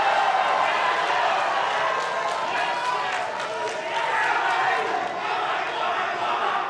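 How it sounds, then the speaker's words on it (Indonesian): Supporters in a packed hall at the 2019 Indonesian presidential final debate on trade and industry clap and cheer loudly, a dense, continuous roar of crowd noise with shouts mixed in throughout. "kita beri tepuk tangan yang meriah para pendukung."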